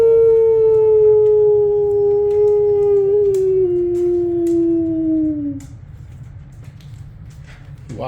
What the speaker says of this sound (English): Try to get him to howl by howling.